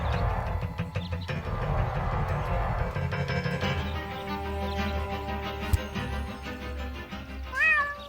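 A cat meows plaintively in the video game Deponia, a stuck kitty up a tree, with a few drawn-out mews over game music and background sound, the last one louder and closer.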